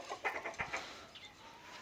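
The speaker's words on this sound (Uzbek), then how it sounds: "Bu yerda ko'rib turgan tovuqlar hammasi Andijon qora tovuqlari" Andijan black chickens at a small farm cluck in a string of soft, close calls, several birds overlapping at moderate volume with no talk.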